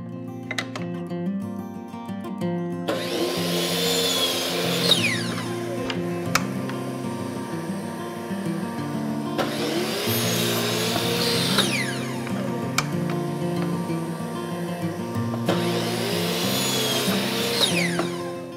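A miter saw makes three separate cuts through wood to produce identical 3-inch pieces, each a loud whirring burst at a steady interval, with the motor humming in the gaps.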